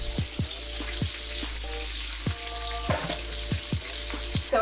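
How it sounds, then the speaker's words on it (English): Broccoli and peppers fry in bacon grease in a skillet over medium heat, a steady close sizzle with repeated rhythmic knocks and scrapes of a utensil and a low hum beneath, with no voices. "I'm about to put these peppers in the skillet with the broccoli on medium heat with bacon grease"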